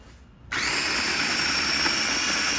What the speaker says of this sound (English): Okay, so we're now going to grind a little bit up.